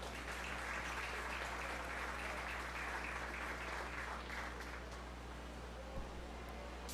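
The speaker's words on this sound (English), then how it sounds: "Let's give these exhibitors a round of applause." An audience at a 4-H beef show claps for the exhibitors, a steady, even wash of applause from a crowd that holds for several seconds in a large hall, fairly distant and soft.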